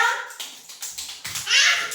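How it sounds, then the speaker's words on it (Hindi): A few sharp hand claps from children in a classroom, short uneven bursts close by with a voice mixed in. "अब ताली बजाओ"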